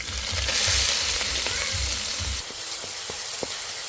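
Chopped onion and chilli sizzle steadily in hot oil, a loud close frying hiss with faint stirring clicks, easing slightly toward the end.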